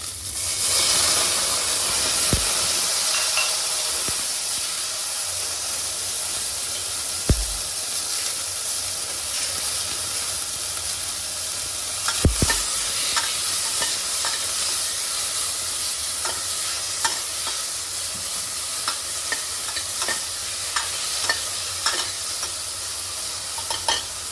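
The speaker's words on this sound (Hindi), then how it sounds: "इसमें मैं डाल रही हूँ प्याज, साथ साथ में डाल दूंगी मेरे टमाटर।" Onions and tomatoes fry in a pot with asafoetida, a loud steady sizzle and hiss running throughout, broken by a few sharp knocks and scraping stirs of a spoon against the pot, with no voices.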